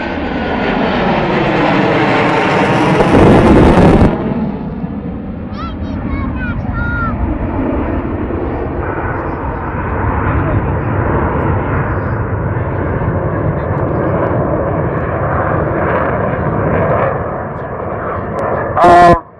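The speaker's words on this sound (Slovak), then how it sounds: "Pozerajte stíhačky. Pozeraj, hej. Húčať budú stíhať." Fighter jets roar overhead in a loud, continuous flyover, the heavy engine rumble rising, easing slightly as they bank away, then surging in a sharp burst near the end.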